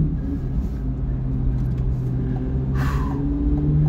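Corvette C8 Z06 heard from inside the cabin on a test drive, a steady loud engine drone and low rumble running throughout, with no talking.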